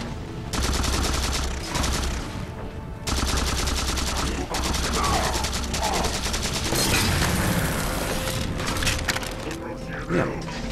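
Covenant weapons fire in Halo 4, a dense run of rapid energy shots and bursts that keeps going through most of the stretch, loud and close, with game effects layered underneath.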